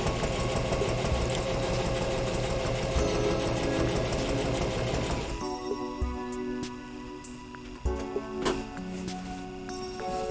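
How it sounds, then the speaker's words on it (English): A sewing machine stitches a zigzag across a patch on a boat cover, its needle chattering rapidly and loudly, then easing to slower, sparser stitches with a few clunks near the end. "we're sewing a zigzag across the patch"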